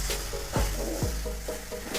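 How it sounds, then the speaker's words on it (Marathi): A spoon scrapes through fresh coconut ladoo mixture with milk cream in a pan, giving a few distinct close stirring strokes over a low background hum. "मिक्स करून घेऊया।"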